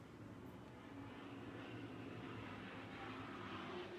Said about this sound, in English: There's a big plane going overhead.